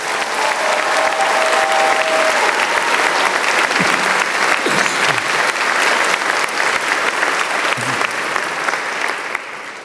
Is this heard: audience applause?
yes